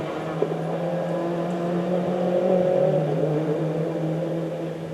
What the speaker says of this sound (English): Steve Harkness next in the yellow Mark II Escort.